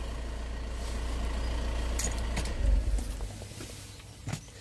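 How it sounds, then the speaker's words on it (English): A vehicle engine idles with a low steady rumble, then the ignition is switched off and it shuts down with a short clunk and a few faint knocks as the running sound dies away. "So I'm going to turn the ignition off."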